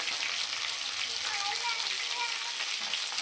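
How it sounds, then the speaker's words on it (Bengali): Fish pieces frying in a pan in a home kitchen, a steady hissing sizzle at moderate volume that continues evenly with no talk over it. "দেখো মাছ পিস থেকে বের করেছি, মাছটা ভাজা হচ্ছে"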